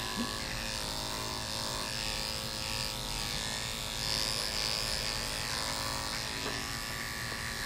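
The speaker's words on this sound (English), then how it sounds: "So you shave the tail all the way?" Electric clippers buzz steadily through a Schnauzer's tail during a grooming session, a close, continuous motor hum with slight shifts in pitch and no pauses.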